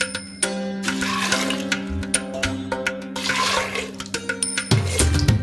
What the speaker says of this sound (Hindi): तो इसमें पानी डाल दूंगी, पानी इतना डालूंगी ताकि ये जो हमारा आलू और चना है वो डीप हो जाए।